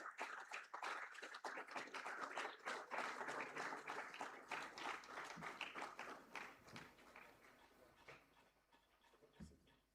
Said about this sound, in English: can we please have a round of applause for the winners?